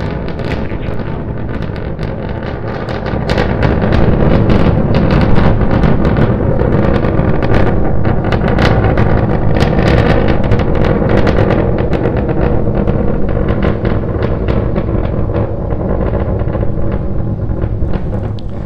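Starship SN9 rocket engines in a launch simulation give a loud, continuous broadband roar that swells after a couple of seconds and holds steady with crackling texture throughout, with no talk.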